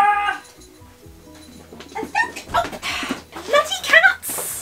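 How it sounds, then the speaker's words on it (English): Cats yowling and meowing in a series of short, rising cries indoors, growing louder toward the end. "Bloody cats!"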